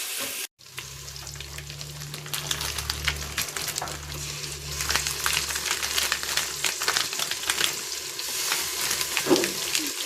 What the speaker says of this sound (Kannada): ಇವಾಗ ಟೊಮೊಟೊ ಬಾತ್ ಮಾಡ್ತಾ ಇದ್ದೀನಿ